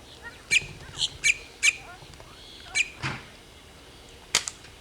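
A bird gives a run of sharp, shrill squawks in quick bursts, about eight calls over a few seconds, fairly close against quiet outdoor background noise.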